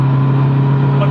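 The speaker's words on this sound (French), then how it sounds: "Oh le rupteur c'est incroyable." A VW Golf 4 GTI TDI stage 2 diesel engine holds at the rev limiter, a loud steady droning hum close by, with a person speaking over it.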